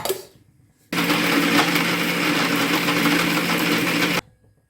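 Mixer grinder blending fresh raw coconut into paste, a loud whirring motor that starts abruptly, runs steadily for about three seconds and cuts off, with faint room sound before and after.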